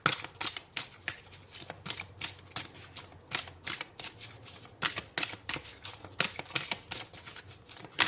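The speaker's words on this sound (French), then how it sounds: "Alors, on va prendre une deuxième carte." A tarot card being drawn and handled from a deck, with repeated crisp papery flicks and shuffling snaps in quick irregular bursts, close and fairly quiet, with no voices.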